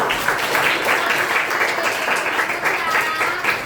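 An audience at a training session breaks into applause, a dense, steady wash of clapping that continues unbroken from start to finish.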